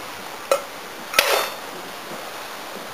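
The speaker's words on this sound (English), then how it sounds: "I'm gonna try crushing it with this hammer" Hammer striking a rock-hard expired cookie, with two sharp impacts, the second followed by a brief crunch and rattle, close and fairly loud over a steady background hiss.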